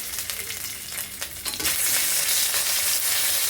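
Ginger paste drops into hot oil with dry red chillies and a bay leaf, setting off a loud, steady sizzle that swells sharply partway through and stays strong, with faint stirring beforehand.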